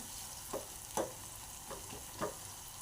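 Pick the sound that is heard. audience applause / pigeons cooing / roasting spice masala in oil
roasting spice masala in oil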